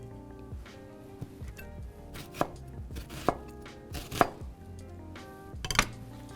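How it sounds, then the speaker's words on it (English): A knife chops vegetables, probably red onion for gazpacho, on a board in an irregular series of crisp, close knocks with a few louder strikes and no speech. "And I'm gonna cut this also, just to give me some good chunks"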